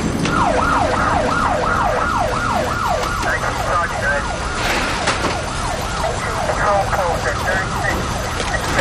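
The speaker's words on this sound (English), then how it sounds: "Can you hear the sirens? It might be coming through here." Emergency vehicle sirens wail in a repeating rising-and-falling pattern, loud and steady across the street scene, with a second overlapping siren joining partway through and faint traffic noise underneath.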